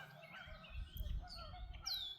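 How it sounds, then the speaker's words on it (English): Geese honking and calling overhead, several overlapping calls at moderate distance over a low rumble of background noise. "There goes some more geese came flying in."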